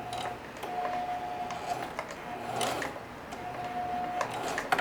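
A sewing machine reverse stitching on denim, a quiet whirring run of a few stitches with a steady hum, then brief pauses and soft clicks, close by with no talk.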